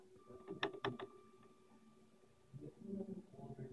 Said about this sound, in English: Try extruding some plastic.